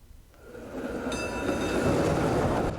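A train rumbles past steadily, building from quiet into a loud, continuous roar with metallic whine and faint high-pitched tonal artifacts from resampling, no voices.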